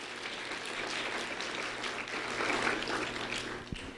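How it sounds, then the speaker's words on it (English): An audience applauds at an award ceremony, a steady, moderately loud wash of clapping that holds for several seconds with no voices over it. "A round of applause for Brian Kent Domingo."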